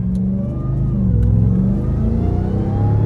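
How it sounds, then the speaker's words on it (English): A truck engine fitted with a supercharger revs in a continuous rumbling drone, pitch rising and falling through short bursts of throttle, loud and close with no talking. "Let's get some whine out of this thing."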